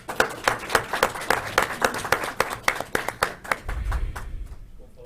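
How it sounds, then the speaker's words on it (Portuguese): Applause at an entrepreneurship show stage in Brazil as the commercial association president is called up, a fairly small crowd clapping in distinct rhythmic bursts that thin out toward the end. "uma salva de palmas para eles"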